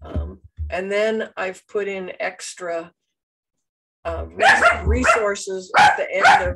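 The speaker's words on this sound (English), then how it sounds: "sorry about my dog" A dog barks several times close by indoors, with loud yaps overlapping a person speaking English in a home office setting.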